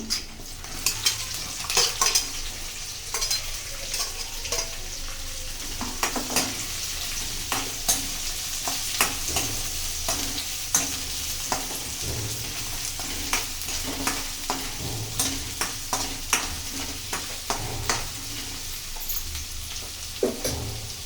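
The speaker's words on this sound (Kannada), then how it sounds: "ಇವಾಗ ಹೆಚ್ಚಿಟ್ಕೊಂಡಿರೋ ಈರುಳ್ಳಿ ಹಾಕ್ತಾ ಇದ್ದೀನಿ" Chopped onions fry in hot oil in a pan for avalakki oggarane, a steady sizzle with frequent scraping and clinking stirs from a spoon against the pan, continuous and close with no talk.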